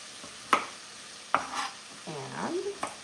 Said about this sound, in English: Give our base here a little stir.